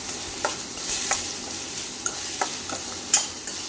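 Onion and tomato frying in a pan while being stirred, a soft steady sizzle broken by scattered scraping and clinking strokes of the spoon, close and without talk.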